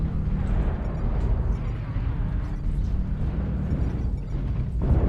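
An airstrike explosion in a mech combat video game, a loud, sustained roaring rumble that swells and churns for several seconds with heavy low-end booms and no clear pauses.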